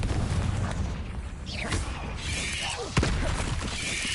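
Confringo blasting curse fired in Hogwarts Legacy: whooshing, crackling magic bursts build to one sharp, loud blast about two-thirds through, followed by a lingering rumble.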